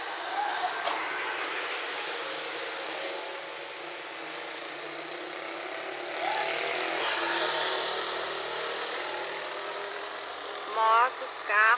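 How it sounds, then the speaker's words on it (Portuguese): Busy city street traffic on an avenue in Sorocaba, Brazil, heading toward Rua MMDC and Vila Barão: a steady wash of passing cars, motorcycles and buses, louder in the middle with a brief horn-like tone near the end. "Motos, carros e ônibus."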